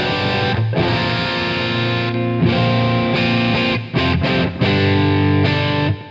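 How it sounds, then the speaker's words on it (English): Distorted electric guitar through an amp with plate reverb and Echoplex delay, sustained chords ringing and layering, with several brief cuts and restarts, loud and close with no voices. "What happens if I turn on this plate reverb, which I'll do there, and then let's say I have the Echoplex on."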